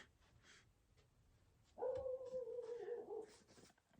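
An agitated dog at a rural spot gives one loud, drawn-out bark that rises into a howl, about a second and a half long and fairly close, against a quiet background.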